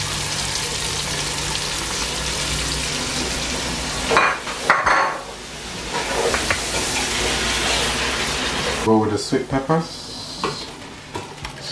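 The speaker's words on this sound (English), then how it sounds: "It should be frying" Steady sizzling of sweet peppers and scotch bonnet frying in a pan for Nigerian efo riro stew, a constant hiss throughout with occasional stirring clatter, while a person talks briefly over it.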